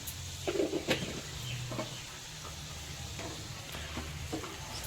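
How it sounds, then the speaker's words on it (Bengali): Cinnamon and black cumin seeds frying in hot oil in a kadai for a cauliflower fish curry, a steady close sizzle with a few stirring scrapes and clicks, no voices. "এই তেলের মধ্যে দিয়ে দিচ্ছি দারুচিনি আর দিয়ে দিচ্ছি কালো জিরের ফলন ফলনটা ভালো মতো ভেজে নিচ্ছি"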